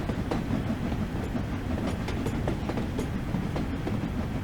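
Passenger carriages of a simulated steam train run along the line from Manchester London Road to Liverpool Lime Street in Train Sim World, a steady rumble with repeated rhythmic clickety-clack over rail joints, moderately loud and continuous.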